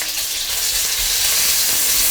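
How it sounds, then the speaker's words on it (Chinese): Diced salted fish, rinsed of surface salt, fries in a little oil in a wok, producing a dense close hiss and sizzle for a couple of seconds with no voices. "锅里倒少许的油，接下来下入咸鱼，我们给它煎一煎。"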